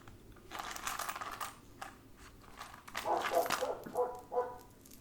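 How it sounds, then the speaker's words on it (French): A dog nearby barks and whimpers in short, high yelps under a steady indoor background, with a few closely spaced cries clustered toward the end of the clip. "C'est Michel à côté qui aboie, alors je vois pas pourquoi il pleure"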